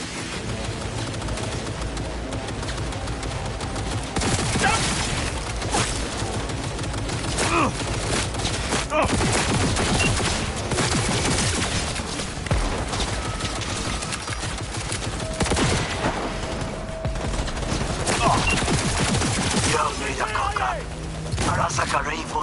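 Video game gunfire in Cyberpunk 2077, steady rapid shots and bursts running continuously under game sound effects, with a player's voice talking over the action.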